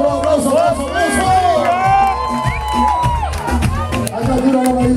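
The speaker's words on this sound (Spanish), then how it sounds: "¡Aplauso, aplauso, aplauso!" A crowd at a lively party cheers, whoops and shouts over loud music, a dense, excited roar that holds throughout with voices rising above it.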